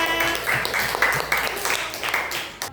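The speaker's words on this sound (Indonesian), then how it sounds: "Oke, tepuk tangan semuanya." A classroom of schoolchildren claps together after a group presentation, with a fairly loud, rhythmic run of group clapping mixed with children's voices that fades out at the end.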